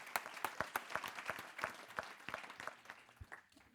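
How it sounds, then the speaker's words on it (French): Audience applause at a round-table event, a dense burst of clapping from a seated crowd that rings out steadily and then tapers off near the end, with no talk over it. "On peut l'applaudir une dernière fois."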